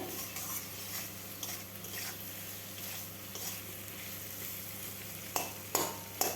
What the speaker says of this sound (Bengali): সামান্য একটু লঙ্কা গুঁড়ো ভালোভাবে মিশিয়ে নেব এইভাবে আমি ভাজতেই থাকব মশলার থেকে কাঁচা গন্ধ যেন চলে যায়